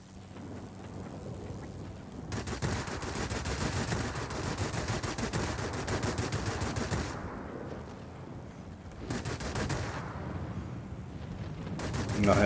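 Yak 3 fighter aircraft guns firing in World of Warplanes, long dense bursts of rapid cannon and machine-gun fire with short pauses between, loud over a droning engine, with someone talking at times.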